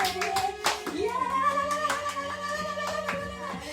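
A church congregation claps to acclaim the Lord at a morning worship service, with brisk, steady hand claps filling the room over sustained tones and faint voices throughout.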